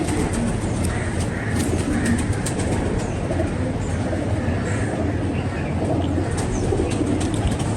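A pair of Sialkoti pigeons, a cock and hen kept by a fancier, coo softly amid steady broadband background noise, with occasional faint wing flutters throughout.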